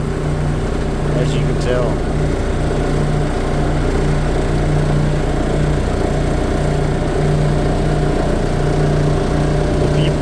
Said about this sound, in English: A high frequency table, so it goes back and forth really fast